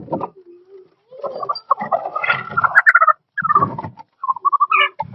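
A hen, traded for a television from a travelling vendor in a Roma community, clucks and squawks in irregular close bursts, with brief pauses between the calls.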